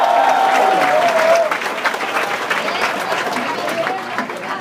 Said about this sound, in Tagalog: isang palakpak pa ulit!